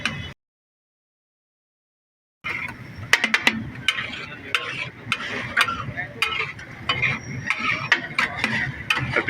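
Egg tikki frying in butter on a griddle at a Lahore street stall, brisk metal spatula clanks and scraping over a soft sizzle, starting after a short silence, with busy background noise.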